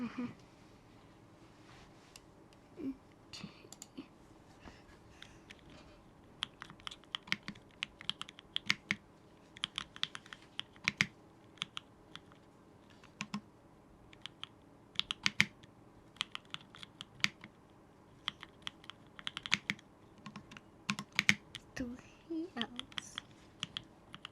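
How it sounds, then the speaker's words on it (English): Clacky keystrokes from a custom-built mechanical keyboard come in irregular bursts of fast typing with brief pauses, close and crisp against a quiet room. "let's be quiet so people can hear the keyboard"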